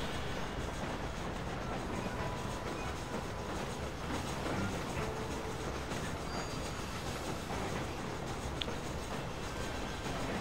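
A train in the video game Red Dead Redemption rolls steadily along the rails with a dense rumble and faint clatter, continuous and loud, with no talk.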